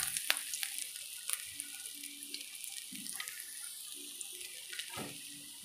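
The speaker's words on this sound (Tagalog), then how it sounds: "Una nating igisa ay ginger." Ginger sautés in hot oil in a pan for a milkfish sauce, giving a steady soft sizzle broken by a few light clinks and stirring scrapes, with no talking.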